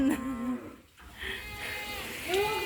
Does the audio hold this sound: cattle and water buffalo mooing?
yes